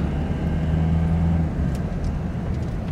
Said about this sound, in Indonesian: Dan kalau untuk sekarang kita akan coba akselerasinya ini mobil.